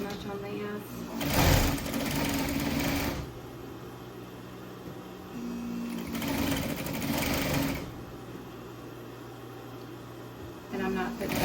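Sewing machine stitching a seam on a Christmas stocking, two loud bursts of rapid motor whir separated by quieter pauses, with a person talking in the gaps.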